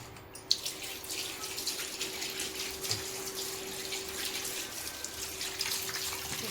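Rock fish being washed under a running kitchen tap, a steady hiss of flowing water with splashes and small knocks as the fish is rinsed, close and continuous.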